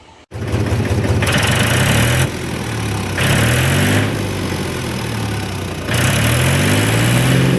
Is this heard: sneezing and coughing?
no